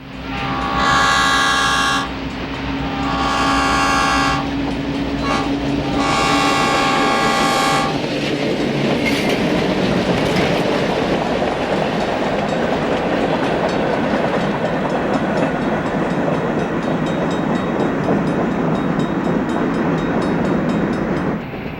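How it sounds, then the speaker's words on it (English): C&O Train 47, a single locomotive pulling three cars, sounds several long horn blasts up close at Romulus, then rumbles past with steady clattering wheels and a continuous roar. "C&O Train 47 at Romulus needs only one unit to pull its 3 cars from Ashland, Kentucky to Detroit."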